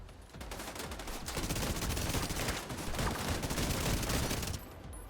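Dense, sustained automatic gunfire in The Division 2, with rapid overlapping shots that stay loud and continuous for several seconds before tapering off.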